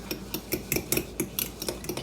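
A spoon scrapes and knocks through an oatmeal bake mixture in a bowl, about a dozen quick, close, evenly spaced strokes with sharp clicks and soft rubbing, no voices over it.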